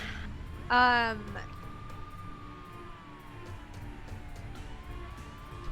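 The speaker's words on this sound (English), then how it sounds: "the police are coming, folks. I heard the siren in the background." A police siren wails in the background, a steady tone gliding slowly up and down beneath a brief louder burst near the start and ongoing room noise.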